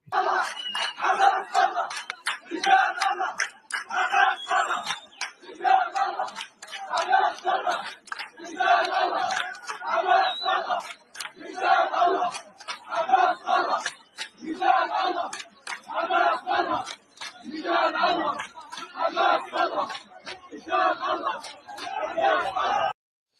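A large crowd at a protest in Gaza chants in loud, rhythmic bursts, many voices shouting together in repeated phrases with brief pauses between, steady and close for the whole stretch.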